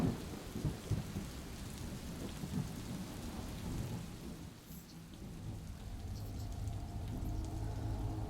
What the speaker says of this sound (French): par-delà le grondement sourd du tonnerre